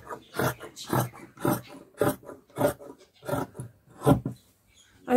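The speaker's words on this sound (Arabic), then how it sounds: "غادي نقطع الخرطه ديالي، غادي نقطعها" Scissors cut through a paper sewing pattern for a child's trousers in a regular run of about ten crisp snips, close up and alone, each separated by a short pause.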